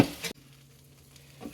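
Bitter gourd frying in a pan over a medium-high flame, a brief burst of sizzling at the start and end with a quieter low crackle in between.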